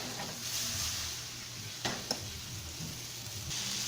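Lamb browning in a pan over medium heat gives a steady, soft sizzle throughout, with a couple of brief sharp clicks from utensils near the middle.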